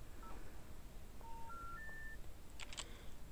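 A telephone keypad in the point-and-click game Unholy Adventure sounds a short run of dialing tones, several quick beeps at rising pitches followed by a brief burst, heard faintly over low background hiss.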